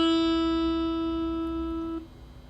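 A bright, high note from the open high E guitar string rings alone for two seconds and then is damped, leaving a faint hum.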